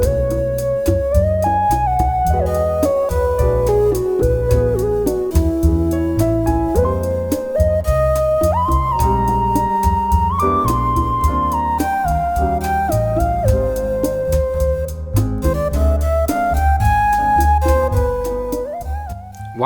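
Bossa nova jazz piano with a full band behind it, including bass and drums and a melody line on top, in a dense, steady groove that stays loud throughout with no talking.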